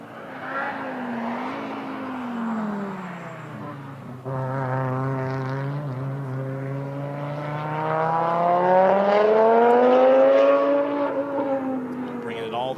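An Audi Quattro race car engine at the Pikes Peak hill climb revving and droning with rising and falling pitch as it passes, growing louder toward a strong high-revving peak.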